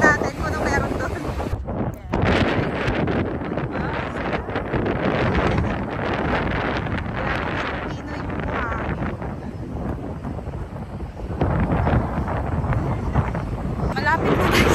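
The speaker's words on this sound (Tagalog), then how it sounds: "Malakas kasi ng hangin." Strong wind buffets the microphone on Bondi Beach, a loud, continuous roar with gusting surges that persists throughout, with faint talk in the background.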